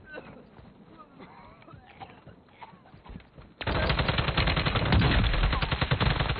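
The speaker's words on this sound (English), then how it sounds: "I hear shots back here." Dense rapid gunfire in a video game erupts loudly about halfway through, sustained automatic bursts following a quieter stretch of scattered distant shots beneath a player talking.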